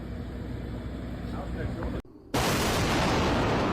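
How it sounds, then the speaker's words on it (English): A massive explosion at night at an evacuated house behind barricades: a steady rumbling din cuts to near silence, then a loud broadband roar bursts in and holds. "A massive explosion tore through the dead of night"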